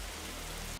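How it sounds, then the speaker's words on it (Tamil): Heavy in-game rain from an Evil Twin Games title, a steady dense hiss of downpour filling the short moment alone with no talk. "Actually இப்ப ஜோரா மழை வேற பெய்ய ஆரம்பிச்சிருச்சு."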